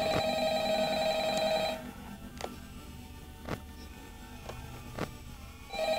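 A telephone rings in Five Nights at Freddy's, a few electronic rings up close followed by a quieter stretch with faint sharp clicks and ticks.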